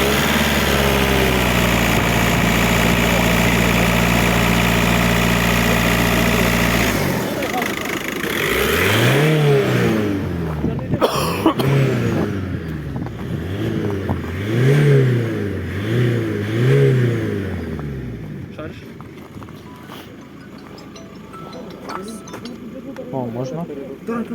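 A Volkswagen Passat B5 with a 2.0 TDI diesel engine idles steadily, then revs up and down in repeated swells, loud and close, while someone speaks.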